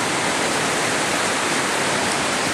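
Creek water flowing through a forest past fallen logs: a steady, loud, close rushing wash that stays constant without any pauses.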